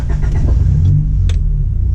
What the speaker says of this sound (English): key in, clutch in, turn on the car